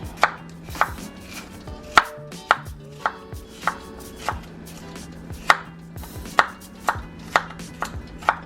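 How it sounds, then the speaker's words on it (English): A small knife chopping an onion on a cutting board, a series of sharp, close thuds in an uneven rhythm, roughly a dozen cuts, with no talking. "we're going to cut this onion up"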